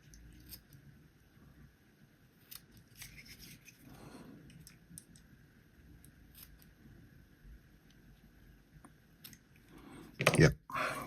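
Scissors snipping through the wings of a homemade fly-fishing butterfly pattern, a few small quiet clicks and snips close up, ending in one louder sharp cut.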